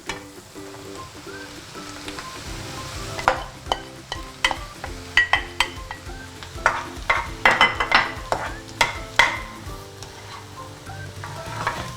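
Mushrooms and softened onions frying in a pan, crackling sizzle under repeated spoon scrapes and clinks against the pan, close and busy throughout, no one talking.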